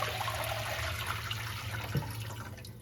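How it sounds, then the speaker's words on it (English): Soaking water is poured out of a Le Creuset Dutch oven into a sink, a steady rushing, splashing stream that runs throughout at low volume. "Just going to dump this water out."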